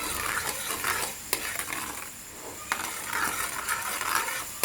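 A spoon scrapes steadily around a pot of homemade hair-removal wax cooking with Sprite, the stirring continuous with a faint sizzle beneath and a few sharp clicks of metal against the pan.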